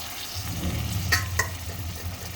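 Mutton pieces sizzling as they hit frying onions in a pan, a steady loud fry with a couple of sharper crackles and stirring clanks, no talk.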